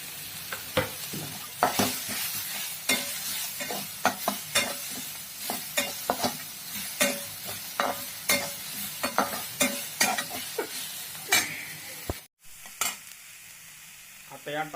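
Finely chopped onion frying in a pan for a red amaranth leaf dish, stirred with repeated sharp scraping strokes over a steady close sizzle, with a brief drop near the end.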